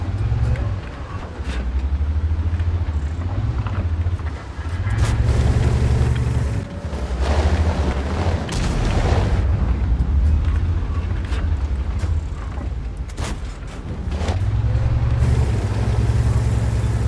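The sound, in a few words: tank engines revving in a video game (M6 heavy tank)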